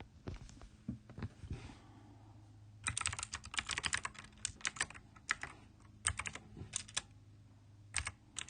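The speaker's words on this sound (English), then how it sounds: "Y'all get to hear my super clicky keyboard." Typing on a super clicky computer keyboard: rapid, crisp key clacks in uneven bursts over a low steady hum, close and moderately loud.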